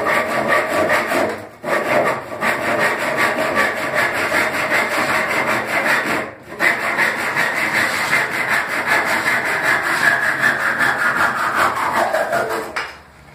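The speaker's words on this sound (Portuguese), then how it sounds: "Você vai serrar essas pontas que ficou sobrando travamento." A hand saw cuts off the leftover wooden ends of a door frame, its close, steady back-and-forth strokes rasping almost continuously for about thirteen seconds with two brief pauses.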